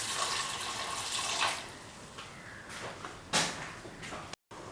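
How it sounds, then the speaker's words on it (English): Two cups of water pour into a salted herb chicken rice mixture, a steady splashing rush with brief surges, ending in a sudden short silence. "Pour in 2 cups of water"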